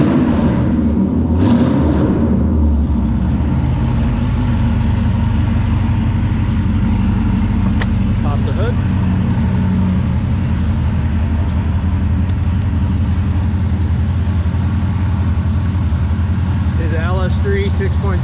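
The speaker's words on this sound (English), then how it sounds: "I'll flip the throttle a little bit so you can hear the car." A 2013 Corvette Grand Sport with an LS3 6.2 V8, Haltech intake and long tube headers, idling with a deep steady rumble and brief throttle blips, close and loud throughout.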